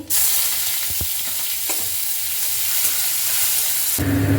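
Loud, steady sizzling of dried red chillies, nigella seeds and garlic frying in hot mustard oil, with a brief stir or clink early on and a sharp change near the end.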